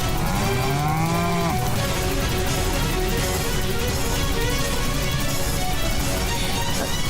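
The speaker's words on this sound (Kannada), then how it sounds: "ನಮ್ಮ ಎತ್ತುಗಳು ಓಡಿ ಹೋಗುತ್ತಿವೆ." Several oxen moo loudly in a dense, noisy scene, their calls rising and falling over continuous rumbling commotion, as if a frightened herd is bolting.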